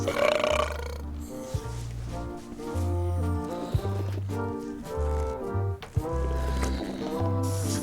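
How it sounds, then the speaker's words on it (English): A drawn-out, bubbly cartoon belch rolls along in a burping contest in Return to Monkey Island, its pitch stepping low and uneven for several seconds over a quiet game backdrop. "how about a burping contest?"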